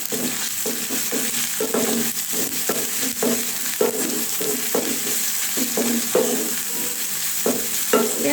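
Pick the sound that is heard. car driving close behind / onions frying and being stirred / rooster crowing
onions frying and being stirred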